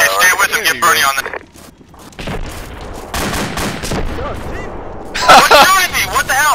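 Gunfire in the Arma 2 military shooter game, with sharp, dense bursts at the start and again near the end, a quieter rumbling stretch between, and people talking over it.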